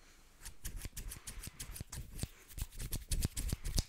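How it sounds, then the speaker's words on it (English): Close-up scissors cut hair during a gentle ASMR haircut, making a rapid, steady series of crisp metallic snips mixed with soft rustles, quiet and intimate. "I think good old scissors should do just a trick"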